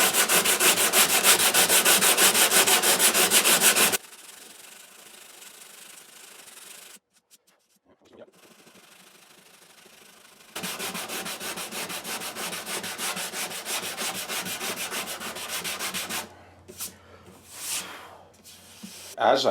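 Someone hand-sands the finish on a Larrivee acoustic guitar in loud rapid back-and-forth strokes, pausing in quieter stretches before resuming, with brief scuffs and handling sounds near the end.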